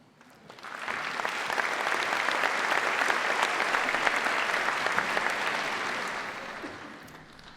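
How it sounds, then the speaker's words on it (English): Sustained audience applause at a Birmingham City University graduation ceremony, a dense, even wash of many hands clapping that swells in, holds steady for several seconds and tapers off. "I think Safa deserves another round of applause, don't you?"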